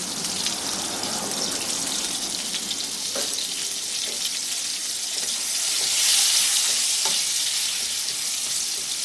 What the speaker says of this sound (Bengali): আলুগুলোকেও হালকা বাদামি করে ভেজে নিচ্ছি